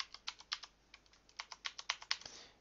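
Password typed on a computer keyboard, a quick, uneven run of light key clicks close by, quiet and with no other sound.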